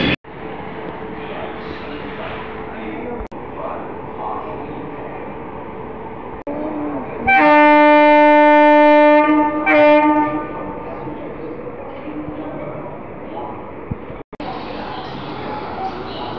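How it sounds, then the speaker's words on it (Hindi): Telangana Express, a Hyderabad–New Delhi train, passes through Mathura Junction with a steady rumbling roar and a loud horn blast lasting a couple of seconds midway through the pass. "तेलंगाना एक्सप्रेस हैदराबाद नई दिल्ली,"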